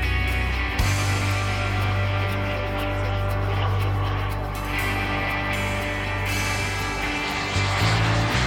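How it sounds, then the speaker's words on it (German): A MiG jet flying a display programme drones with a loud, steady engine roar and strong low hum, dipping slightly midway and swelling again near the end. "Während des Flugs arbeiten die Motoren stabil."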